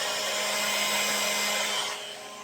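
Cooling fan of a mini GPON OLT network unit, a steady broadband whir held close and constant, dropping slightly in level near the end.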